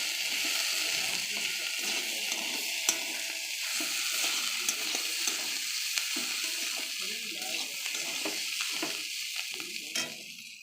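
Onion shoots and potatoes frying in a pan, a soft continuous sizzle with intermittent stirring scrapes and clinks, close and moderately quiet.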